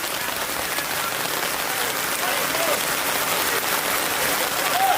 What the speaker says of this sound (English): the rain really starting to pour here